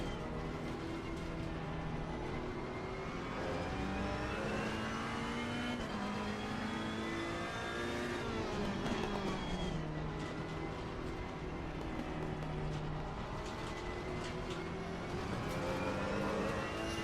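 A race car in Assetto Corsa Competizione on PS4 revs hard through gear changes, the engine note climbing and dropping continuously and loud throughout, with no talking.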